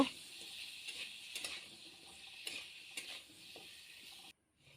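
Cut potato and squash pieces fry in a pan with salt, turmeric and cumin, giving a steady soft sizzle with occasional stirring scrapes, moderately close, before a brief drop to silence at the end.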